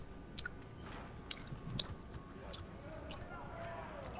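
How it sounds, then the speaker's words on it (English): Gum chewing up close, with moist smacking clicks in an irregular rhythm over a noisy background, loud enough to stand out. "What kind of gum you chewing on, little man?"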